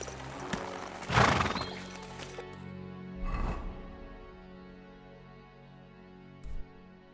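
In a video game, a horse whinnies loudly and close, followed by snorting and a few hoof thuds, with a brief final snort near the end.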